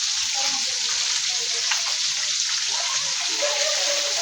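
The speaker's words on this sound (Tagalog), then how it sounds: "Prito tayo na isda." Continuous loud hiss of fish frying in hot oil, crackling and popping steadily with no pauses.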